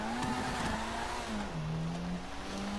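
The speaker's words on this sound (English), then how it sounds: "I really like the initial acceleration of this car." A Vapid Retinue MK2 car in GTA Online revs up and pulls away, its pitch rising and shifting as it accelerates, loud and close with no talking.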